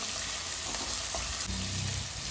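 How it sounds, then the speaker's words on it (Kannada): Chopped ingredients for pumpkin palya fry in hot oil in a pan, giving a steady, close, dense sizzle with no pause. A brief lower bubbling swell comes near the end, and no one speaks. "ಚೆನ್ನಾಗಿ ಫ್ರೈ ಆಗಿದೆ ಎಣ್ಣೆಗೆ."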